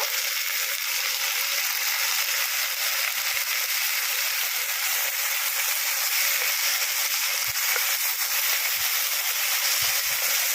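Onion, ginger, garlic and tomato paste fry with fish head for a bottle gourd curry, producing a constant close sizzle and hiss with occasional faint stirring knocks and no speech.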